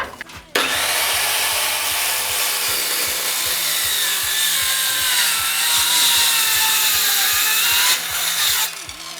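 Loud, close Dnipro-M CS 185 M circular saw grinding through a heavy timber beam for several seconds, a steady high whine over a regular low pulsing, starting and ending abruptly.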